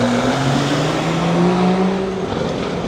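A Toyota Supra with a body kit drives past on a Tokyo street, a loud, steady engine drone with rising and falling tones amid traffic noise.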